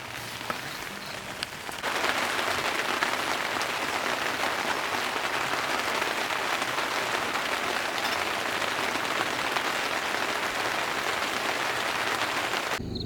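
Steady, dense rain patters on a surface at a campsite in the clouds, starting softer and then swelling into a loud, continuous downpour that runs unbroken with no voices.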